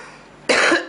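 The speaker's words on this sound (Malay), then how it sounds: "Puas hati dengar batuk je." A single sharp cough, close and loud, followed by the start of another, during a hadith class.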